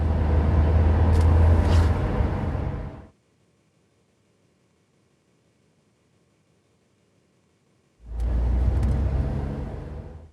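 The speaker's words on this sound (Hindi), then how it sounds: "गाड़ी जा रही है" A car rumbling along, a loud low engine and road drone that cuts to near silence for several seconds and then returns just as strongly.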